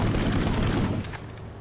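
Rapid, dense automatic gunfire in the video game Planetside 2, a sustained burst of booming shots fired at close range with recoil control, loud and continuous before easing off near the end.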